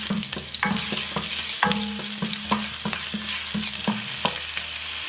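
Crushed ginger sizzles loudly in hot oil in a pan, a steady bright frying hiss broken by repeated sharp clicks and scrapes of stirring, close and continuous throughout.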